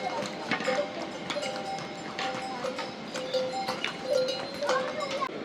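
Horses on a mountain pilgrimage trail to Hemkund Sahib, hooves clip-clopping in a steady uneven patter amid trail bustle and distant voices.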